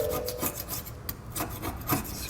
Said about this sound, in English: scrape that off too